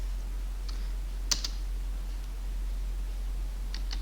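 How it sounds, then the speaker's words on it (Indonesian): Computer keyboard typed in a few quick, crisp keystrokes, near and faint, over a steady low hum with no talking. "untuk membersihkan layar ketik cls"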